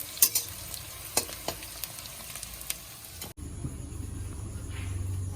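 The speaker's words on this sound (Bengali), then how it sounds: "আর এদিকে তো মাংসটা কষানো হচ্ছে" Meat is being sautéed (kosha) in a pan after onions were fried until reddish. A steady sizzle runs under sharp spatula clicks and scrapes, then the sound shifts abruptly to a softer, rumbling sizzle.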